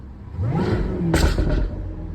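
Jaguar F-Type R sports car revving, a supercharger whine riding over a loud, close exhaust rumble that swells into a sharp burst of throttle partway through.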